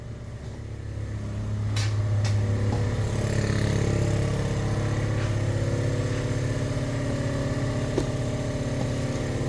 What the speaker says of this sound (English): The old compressor running in the background.